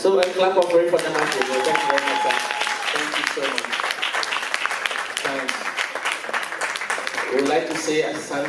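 Audience applauding at a Kenya Airways awards ceremony honouring travel partners in Ghana, a sustained burst of dense clapping filling the room while a voice speaks over it and music plays.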